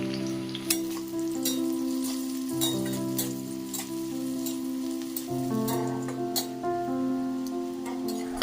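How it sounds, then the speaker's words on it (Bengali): Dried red chillies and bay leaves frying in hot oil for a vegetable khichuri, a steady close sizzle with sharp crackles and pops scattered throughout, alongside a sustained low tonal hum. "লঙ্কাগুলিও যখন দেখব লাল লাল হয়ে এসছে তখন 3-4টি তেজপাতা দিয়ে ভেজে নেব"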